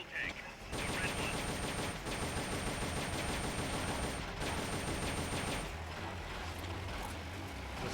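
Continuous gunfire in Metal Gear Solid: Peace Walker as a player shoots at an exposed red fuel tank, rapid game-audio bursts layered with a low mechanical rumble that stays loud throughout.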